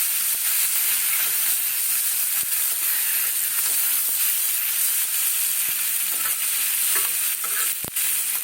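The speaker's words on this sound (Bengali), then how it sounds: "আমি ভাজছি" Mixed vegetables, including drumstick stalks, sizzle in a hot pan as a steady, loud hiss, broken by light scraping clicks of stirring.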